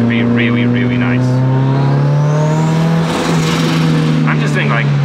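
A turbocharged 4A-FE engine in a 1980s Toyota MR2 AW11 holds a steady, loud drone while driving at around 5,000 rpm, with a brief rise in pitch and the whine of the turbo over it.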